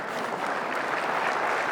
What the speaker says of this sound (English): Maybe give him a round of applause.